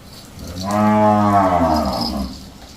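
A single drawn-out moo from a dairy cow on a farm, loud and close, rising and then fading over about two seconds with no talk.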